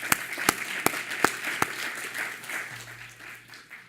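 An audience at a bioengineering department's 20th anniversary event applauds: several distinct claps ring out first, then a softer, continuous patter of clapping that gradually thins.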